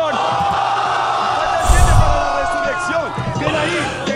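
Spectators at the final of a Spanish-language freestyle rap battle shout and roar at close range, with a loud burst of crowd noise midway over a busy mix of voices and music.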